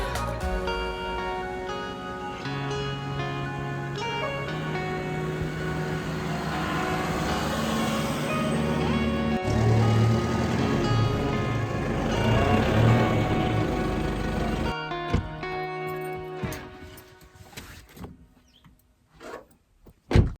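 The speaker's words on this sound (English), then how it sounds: "just driving through a small track. It's like a sand track." A Luxie four-wheel drive grinds steadily through a soft sand track in the Australian bush, its engine droning loud and continuous before easing off into quieter rumbles near the end.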